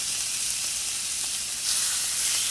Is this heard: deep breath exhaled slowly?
no